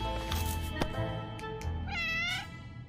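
Meowing cat in the survival game 60 Seconds!, a few short mews followed by a longer, rising and falling drawn-out meow, close and clear over a faint background hum.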